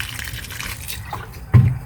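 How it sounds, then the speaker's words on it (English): A garden plant pot mixed with fertilizer is watered thoroughly: a continuous trickle and splash of water soaking into the soil, rising to a louder gush near the end. "I put some more fertilizer in with this one, and I'm going to water it well"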